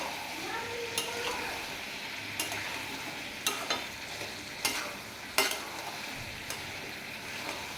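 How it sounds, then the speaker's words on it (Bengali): Katla fish and potato curry with mustard paste being sautéed in a pan, a low steady sizzle broken by several sharp scrapes and clinks of the spatula against the pan, with no talking. "ওই সর্ষের বাটাটা দিতে ভালো করে আমাকে কষাতে হবে"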